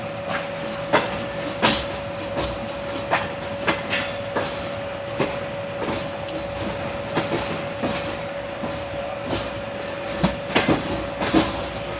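Rail yard ambience at the Khanpur loco shed near a parked GE20 diesel locomotive: a steady tonal hum under a broad rumble, with irregular sharp clanks and clicks of wheels and couplings, fairly close, no voices.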